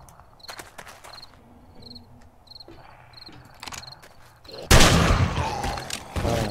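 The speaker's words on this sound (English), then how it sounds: "Let's see how our shotgun works." A single loud, sharp shotgun blast in the zombie survival game 7 Days To Die cuts through quiet night ambience of chirping crickets and soft footsteps, its crash decaying over the following second.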